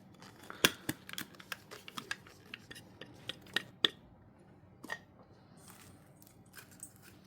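Dried herbs being chopped for a Samhain incense blend, a quiet series of sharp, irregular snipping and cutting clicks close by, with soft rustling between the strikes.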